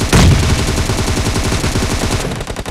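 Beryl M762 rifle fire in PUBG, loud, rapid full-auto shots in a continuous string lasting under three seconds, close and dominant with no voices over it.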